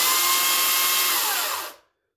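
Electric chainsaw chain spinning down after the trigger is released: a loud, steady high-pitched whine with a falling pitch that cuts off abruptly into silence.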